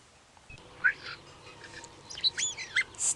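Several short, bright bird calls and chirps of a black-and-white magpie, scattered over about three seconds at moderate distance and fairly faint, with a quiet background and no talk.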